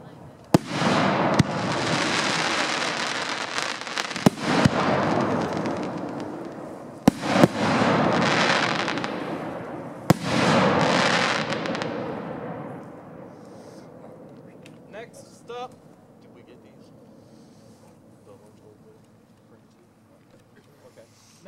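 A volley of 2.5-inch Dominator Prestige A1 firework shells at a pyrotechnics demo: repeated loud booming bursts and crackling for about twelve seconds, then fading to scattered pops and faint crackle with distant background noise.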